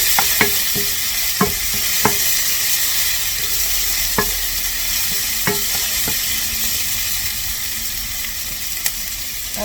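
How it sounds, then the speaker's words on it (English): Swiss chard scramble base sautéing in a pan, a steady loud sizzle with several sharp clacks of a spoon or spatula stirring against the pan, no voices. "While this is sauteing"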